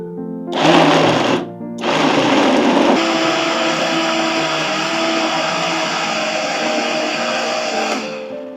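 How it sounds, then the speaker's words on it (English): A blender whirs loudly through watermelon and beet juice, starting with a short burst, pausing briefly, then running steadily at high speed before winding down at the end. "I'm going to cover this and blend it"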